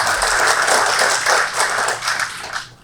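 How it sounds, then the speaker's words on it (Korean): Warm applause from an audience at a Jeju forum on ODA development projects, welcoming a speaker; a steady wash of clapping that holds for a few seconds, then fades out at the end. "따뜻한 박수로 환영합니다"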